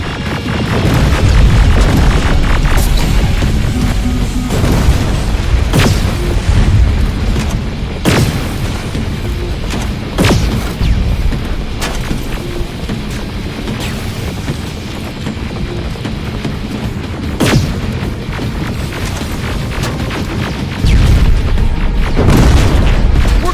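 Deep booming explosions from a tank under fire in the video game Terminator Resistance thud repeatedly over a dense, loud rumbling battle bed, with several heavy blasts standing out at irregular intervals.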